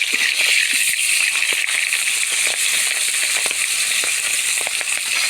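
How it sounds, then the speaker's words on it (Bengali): Fish heads frying in hot oil in a home kitchen give a steady, loud sizzling hiss dotted with sharp crackles and pops throughout, with no voices. "মাছের মাথাগুলো ভেজে নিই"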